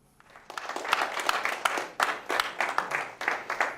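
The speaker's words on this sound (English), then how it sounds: "Let the applause die" Applause from a speech audience starts from near silence and builds into scattered, distinct claps that grow thicker, moderately close and never quite merging into a full roar.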